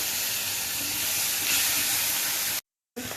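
Onion hitting hot oil in a pan with frying fish and potato gives a steady, loud sizzling hiss that cuts out abruptly and then returns briefly.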